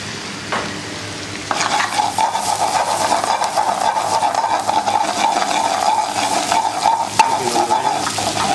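Prawns sizzle and fry steadily in a hot pan for garlic shrimp with melted parmesan, a loud continuous crackle that starts after a brief quiet moment and holds with small pops and spatters.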